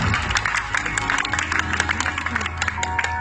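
Scattered clapping from a small audience follows a card magic trick, a brief patter of hand claps over a low murmur of voices.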